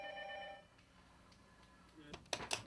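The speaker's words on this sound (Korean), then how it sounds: "수현 씨는 출근하자마자 상수 씨 집에 전화를 걸고 있다" A telephone rings on an outgoing call to a home: a short, tonal ring at the start, then quiet room noise and a few faint clicks and clatters toward the end.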